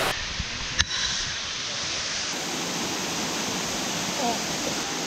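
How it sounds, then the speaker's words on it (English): A giant waterfall in Bali heard from its base, a loud, continuous broadband roar of falling water that stays steady throughout, with a brief knock near the start. "I'm standing like literally at the base of this giant waterfall"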